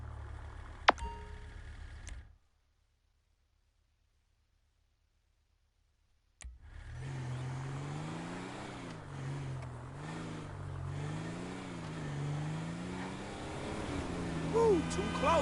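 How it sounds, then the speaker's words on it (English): A garbage truck driving in GTA 5 story mode: a short chime, a few seconds of silence, then a steady engine drone that wavers in pitch as the truck moves, loud and close. "That's the garbage truck"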